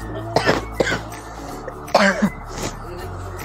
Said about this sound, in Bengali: কাশি এত কাশি উঠে গেছে